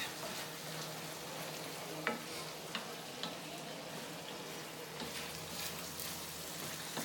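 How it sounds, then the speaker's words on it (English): Garlic frying in a pan with onions and shallots, a soft steady sizzle under occasional scraping and clinking as it is stirred, close but quiet, no voices. "So now I'm just kind of moving the garlic around on the top a little bit so it doesn't get to the bottom of the pan."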